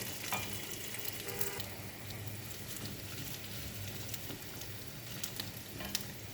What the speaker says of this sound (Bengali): প্রথমে তেল দিয়ে দিলাম তেলের মধ্যে আলুগুলি বেজে নেবো